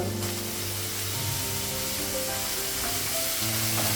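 Cabbage with ginger paste, turmeric and cumin powder sizzling in an oil-filled kadai, a dense continuous frying hiss with faint stirring and tonal background hum.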